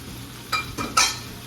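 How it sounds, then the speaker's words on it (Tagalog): Shrimp for spicy gambas sizzle in a hot pan under a low, steady frying hiss, punctuated by three quick scraping stirs of a utensil against the pan, close and clear, with no talking. "Ngayon medyo naluluto na yung shrimp natin."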